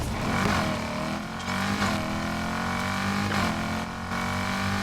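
Lamborghini Aventador SVJ fitted with a 6.2 V8 in Need for Speed Heat, racing on a track: a loud continuous engine drone with repeated rising revs and gear-shift dips, alone without speech.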